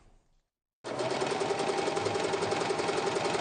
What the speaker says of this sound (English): This sewing machine looks good, but the reverse has stopped working